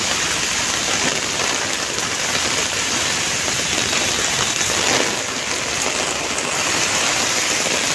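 Heavy monsoon downpour on Marine Drive in Mumbai, a dense, steady roar of rain pounding the seafront and waterlogged road, loud and unbroken throughout with no voices.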